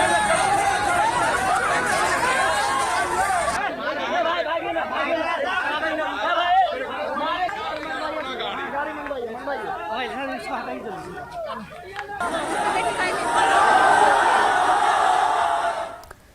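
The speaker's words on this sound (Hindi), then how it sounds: "गुस्साए लोगों ने जमकर हंगामा किया" An angry crowd in an uproar, many voices shouting and chattering together in a loud, continuous roar of agitated babble that surges and swells toward the end.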